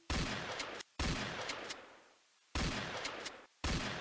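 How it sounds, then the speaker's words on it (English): A video game shotgun fires in two loud blasts, each followed by a long decaying rumble and then a brief silence, with no speech. "this is my favorite gun. We pick it up like this. It's a shotgun."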